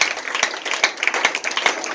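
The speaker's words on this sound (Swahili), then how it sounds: "Makofi kwa Bwana." Congregation clapping together at a church service, a steady ripple of hand claps with sharper bursts every half second or so, fairly close and without talk.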